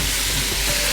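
Onions sizzling and frying in a pan for a Kerala-style mutton stew, with crushed garlic and ginger added, heard as a steady close hiss with faint stirring scrapes and no talking.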